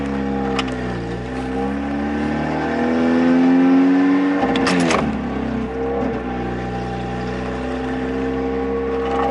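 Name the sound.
Mitsubishi Eclipse engine idling and revving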